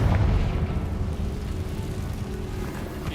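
Confringo spell blast in Hogwarts Legacy, a loud low boom at the start that settles into a rumbling, crackling decay lasting a few seconds.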